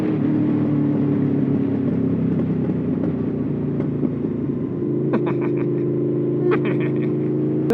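Motorcycle with a loud aftermarket exhaust rumbling steadily close by, with sharp crackles and pops bursting out near the end as it engine-brakes.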